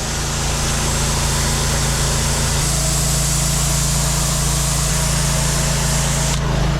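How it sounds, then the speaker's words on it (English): A gas-engine pressure washer runs steadily while washing a restaurant. The close, loud motor hums and drones without a break, and its pitch shifts partway through. "Let's get the power washer started up."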